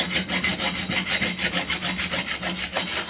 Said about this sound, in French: ça, ça c'est une râpe